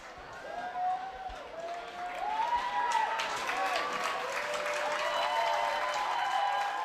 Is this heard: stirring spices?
no